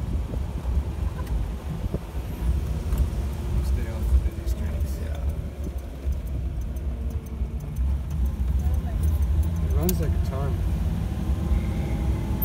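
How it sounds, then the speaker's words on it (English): Original flathead V8 in a 1948 Ford Sportsman woody convertible runs steadily, a low, continuous rumble that stays fairly close and even throughout, with faint background noise over it. "Original flathead V8 engine."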